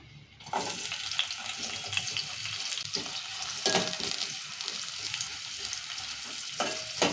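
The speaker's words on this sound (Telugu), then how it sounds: "ఇక నూనె వేడైంది ఇప్పుడు ఉల్లిగడ్డ వేసుకుందాము" Sliced onions sizzle and fry in hot oil for a ridge gourd curry, a steady close crackle starting after a brief quiet moment, with occasional clinks and stirring scrapes throughout and no talking.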